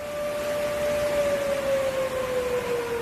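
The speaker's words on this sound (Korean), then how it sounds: "시민들을 대피시키는 사이렌 소리가 울려 퍼집니다." An evacuation siren sounds during flash flooding along the Dorimcheon stream in Seoul, a single steady wailing tone slowly falling in pitch, heard from a distance over broad rushing noise from rain and floodwater.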